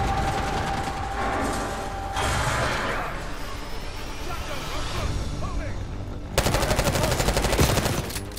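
Rapid automatic gunfire in the Call of Duty Black Ops 6 campaign: dense, continuous bursts of shots and clattering mechanisms, with an even louder, heavier burst of fire near the end.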